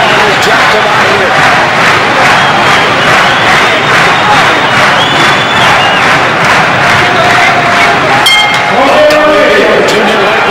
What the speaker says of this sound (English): Lorcy's crowd, you can hear him pumped up.